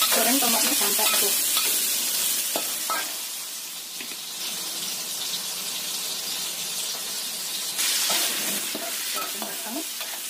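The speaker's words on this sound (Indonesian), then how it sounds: "Goreng tomatnya sampai empuk." Tomatoes fry in a pan with a steady, bright sizzle, close and continuous, while a utensil occasionally stirs and scrapes.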